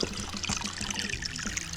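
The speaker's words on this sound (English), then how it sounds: "We have water coming into the D-box and going out to each little hole" Water trickling through a septic distribution box (D-box) feeding a leach field, a steady, fairly faint dribble and splash running continuously without any voices.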